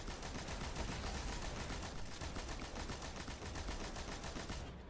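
Rapid automatic fire from a Vex gun with shotgun blasts in Destiny 2, dense rattling bursts almost nonstop and loud, with no talk.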